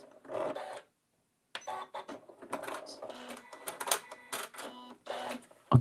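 A sewing machine stitches fabric scraps together with thick thread in short, stop-start bursts of mechanical whirring and clicking, close and fairly quiet, with pauses between runs.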